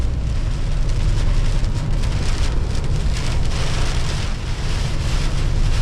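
Heavy tropical-storm rain drums loudly and steadily on a semi truck during a drive, with gusting wind mixed into the dense, unbroken roar; no talking.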